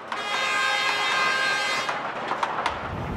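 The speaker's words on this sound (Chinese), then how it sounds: "看到我们蒸汽小火车呢缓缓的启动，然后就是在这悠扬的汽笛声中" A small narrow-gauge steam train on a mountain mining line gives a long, loud, tonal whistle as it begins moving, then fades into scattered clanks and rumble; no voices.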